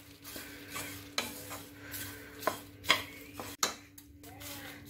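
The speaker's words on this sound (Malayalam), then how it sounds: "ഈ മുളക് പൊടിയൊക്കെ ഒന്ന് മൂക്കാൻ വേണ്ടി ഇളക്കാം" A spoon stirs chilli powder roasting in a very hot pan for dry coconut chutney, scraping rhythmically against the metal in several distinct strokes over a faint sizzle, close and fairly quiet.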